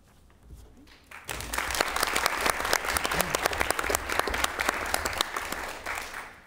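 An audience at a school committee meeting bursts into applause, swelling quickly into steady, dense clapping close by that carries on to the end with slight fading.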